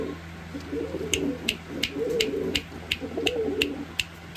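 A single female pigeon coos close by in repeated low, throaty phrases, with sharp faint clicks ticking at a steady pace in the background.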